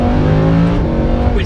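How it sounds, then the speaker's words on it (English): Loud, steady drone of a Lamborghini Huracan's naturally aspirated V10 sports-car engine, held at high revs with strong harmonics throughout and no talk over it. "This is no doubt going to be one of the last naturally aspirated V10 engines in a mass-produced sports car."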